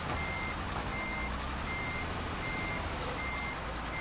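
Reversing beeps from a truck in Euro Truck Simulator 2, a steady series of regular electronic tones repeating over a constant low engine rumble, loud and close with no talking.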